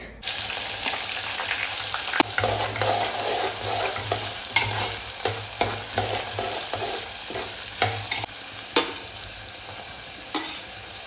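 Onions frying in a pan, a continuous crackling sizzle broken by repeated scraping stirs of a spoon at a slow, uneven rhythm, close-up with no voices.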